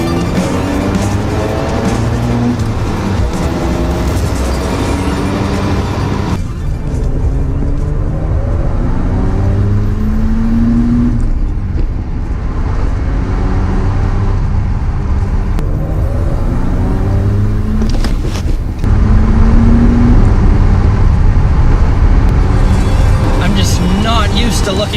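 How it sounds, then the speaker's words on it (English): A 1990s Mazda FD RX-7 twin-turbo rotary engine accelerates hard through repeated revving pulls with gear shifts, loud and close, while someone talks over it. "And when that second turbo kicks in, man, do you feel a jolt."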